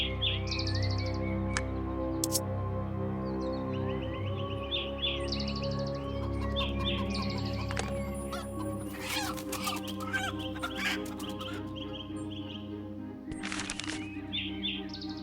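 Chicken clucking in the video game Lost Land X, repeated short clucks and chirpy calls over a sustained tonal game music bed, with a burst of brighter clattery sounds toward the end.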